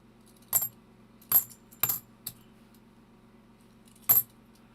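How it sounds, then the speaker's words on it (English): Half dollar coins clink and drop in five short metallic bursts, close and bright, with a longer pause before the last jingle. "See the edges and listen to the coins."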